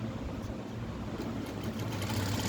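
A sewing machine runs continuously at close range, stitching a blouse, its steady low motor hum rolling without pause for the whole stretch and no one talking over it.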